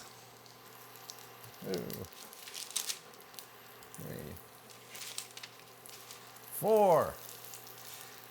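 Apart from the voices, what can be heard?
black bean patties frying in melted butter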